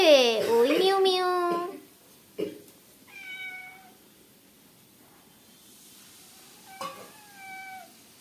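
A pet cat meows three times beside a kitchen where cooking is under way: a loud, drawn-out first call, then two softer, shorter meows spaced a few seconds apart.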